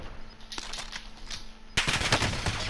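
Gunfire in a shooter video game, M4 rifle, scattered sharp shots early, then a loud burst of rapid close automatic fire breaking out near the end.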